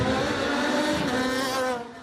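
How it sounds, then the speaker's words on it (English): IndyCar race cars scream past on a street circuit, a loud, high-revving engine roar with whining harmonics that holds steady for about two seconds before dropping away, with no talking. "As the cars raced by"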